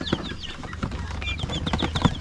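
Large Jersey Giant chickens cluck and chatter nearby in a farmyard, a busy run of overlapping short calls with occasional rustling or wing movement.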